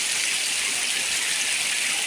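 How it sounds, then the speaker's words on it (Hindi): Steady rain falls without a break, a dense, even hiss of drops close by that runs through the whole stretch with no voices over it. "बारिश अभी भी सही हो रही है"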